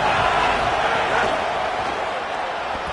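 A dense, roaring stadium crowd at an Auburn college football game, loud and continuous, with the sustained wash of thousands of fans building pressure on the visiting team.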